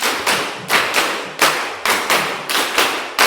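Classroom group clapping a rhythmic five-beat pattern in unison, sharp loud bursts of claps in tight clusters, repeated in two rounds close up.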